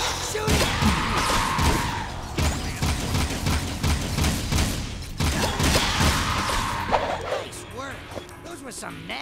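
Rapid bursts of gunfire aimed at a metalhead in the video game Jak II, a dense run of sharp repeated shots with brief pauses and thuds, mixed with game voices and creature noises.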